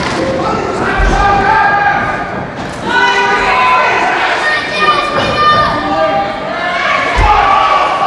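A few heavy thuds of a wrestler hitting the ring land amid a loud, cheering crowd at a wrestling event, with shouting voices and commentary running throughout.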